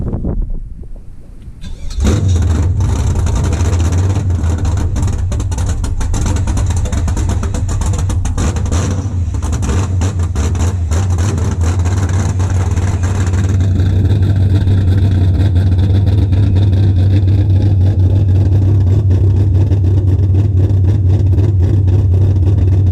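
An LS V8 swapped into a BMW E36 cranks and fires up after a brief pause, then settles into a loud, steady idle with intermittent revs, with the engine rumble growing heavier and fuller partway through.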